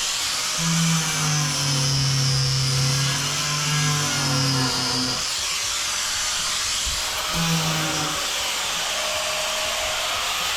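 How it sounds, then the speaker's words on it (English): An angle grinder fitted with a diamond tile blade runs at a high steady whine while trimming bits of a framed shower niche. It cuts out around five seconds, then gives a brief second burst and runs down, with no voices. "where's my grinder just to get those little bits?"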